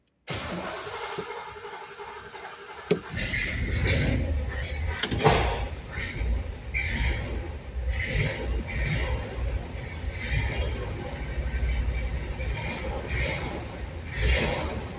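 A 1966 Chevrolet Corvette convertible that has sat unused for a while cranks and fires after about three seconds of quiet, then settles into a loud, steady, close-up engine run for the rest of the clip.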